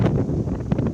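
Strong coastal wind in Cagayan during a storm, a steady rushing roar buffeting the microphone for a brief moment, loud and close with no speech.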